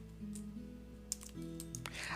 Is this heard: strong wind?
no